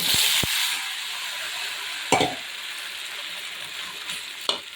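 Avalakki (flattened rice) fries in a pan with a steady soft sizzle and hiss, broken by a few sharp clinks of stirring, heard close and alone without talk.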